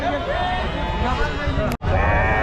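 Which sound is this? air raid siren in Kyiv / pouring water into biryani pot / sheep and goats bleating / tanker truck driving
sheep and goats bleating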